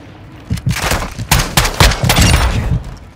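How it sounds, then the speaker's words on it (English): Heavy gunfire in the Call of Duty Warzone battle on Ashika Island, a ragged cluster of loud shots and booming impacts with a sustained rumble between them, close and intense. "Taking effective fire!"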